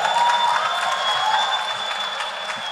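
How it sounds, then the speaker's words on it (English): An audience at a graduation ceremony applauds a summa cum laude honoree, a steady wash of clapping from a large hall crowd at moderate level, with no talking. "You can clap for that, summa cum laude."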